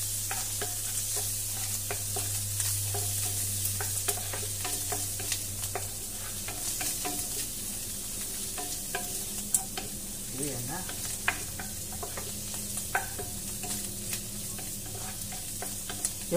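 Garlic, onion and canned mushrooms sizzle steadily in a pan for pasta carbonara, with frequent close clicks and scrapes of stirring over a continuous frying hiss, no voices.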